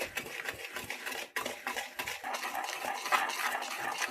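Egg and oil for a Christmas marble cake batter being mixed hard in a bowl, a rapid, continuous rhythmic whisking and scraping close by, with a brief pause early on, no voice.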